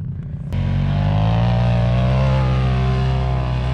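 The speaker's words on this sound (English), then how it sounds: "Bunch of Polaris turbos hitting some jumps." Polaris RZR turbo off-road vehicles roar in loudly on sand dunes after a brief quieter start, engines revving hard and sustained as they hit jumps, close and without speech.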